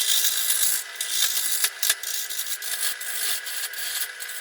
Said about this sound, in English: I've swapped over to a carbide scraper. I feel I can remove a lot more wood at a faster rate this way.